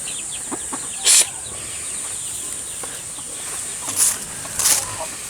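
Chickens on a farm in the Philippines, a steady outdoor background with a few short clucks and calls, including a brief sharp squawk near the start and two more toward the end.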